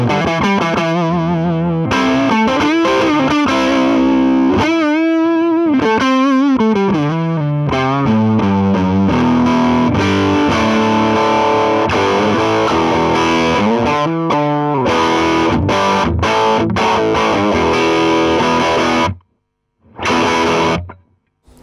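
An Orange Rocker guitar combo amp, natural channel cranked to three-quarters, roars with loud distorted electric guitar riffs and sustained chords, ending in choppy stabs and short silent gaps.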